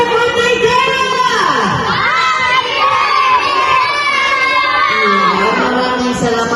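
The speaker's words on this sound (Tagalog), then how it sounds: "lahat ng kids, sigaw natin, happy birthday, Kara!" Children at a birthday party shouting together, a loud, continuous crowd of young voices cheering and yelling close by for several seconds, with no pause.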